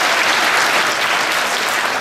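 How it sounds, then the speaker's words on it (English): A large audience at a Chinese New Year gala gives a round of applause, loud, dense and steady throughout with no voices over it. "I would like to ask everybody to give them another round of applause."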